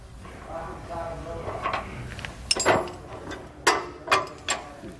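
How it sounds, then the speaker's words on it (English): An 18mm socket and wrench loosening steering dampener bolts on a motorhome's steering stabilizer, giving a few sharp ratcheting clicks and metallic taps near the end of the clip over low background rumble. "Our next step is to remove our dampener, we want to grab an 18mm socket and wrench and just take these off."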